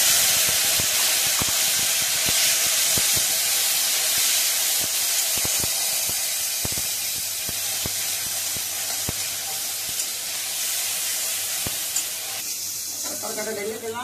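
Tarka poured into a hot pan, giving a loud, steady hiss and sizzle that slowly eases off, with faint clicks and scrapes near the end.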